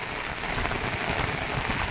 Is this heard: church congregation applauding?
no